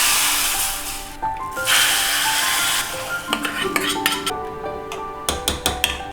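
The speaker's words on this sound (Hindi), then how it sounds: "इसका छौंक लगाइए।" Hot oil tempering with garlic, cumin, garam masala and red chili powder for a curd dal sizzles with a steady hiss, then spoons and a metal pan clink and scrape in quick, irregular knocks close by.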